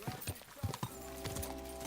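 A horse in the video game Kingdom Come: Deliverance 2 clops along with several sharp hoofbeats in an uneven rhythm, followed by a steady tonal hum in the background.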